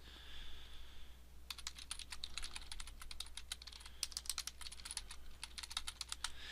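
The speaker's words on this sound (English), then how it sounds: "all I have to do is type in my text" Rapid typing on a computer keyboard, a dense run of light key clicks starting after a brief quiet moment and continuing steadily to the end, close and fairly soft with no talking.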